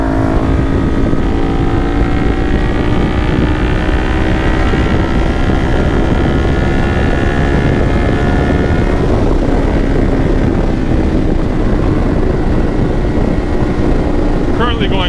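A Kawasaki Ninja 400 motorcycle cruising on the highway at about 75 mph and 7,000 RPM, a loud steady engine drone mixed with heavy wind rush, with a rider talking over the top throughout.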